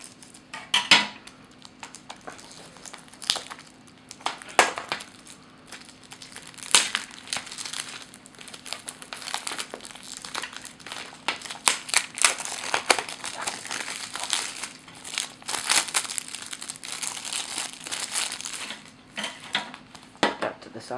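Plastic and cardboard packaging of a Naruto Ultimate Ninja Storm Generations game crinkles and rustles close by in irregular bursts, broken by sharp clicks and taps of handling throughout.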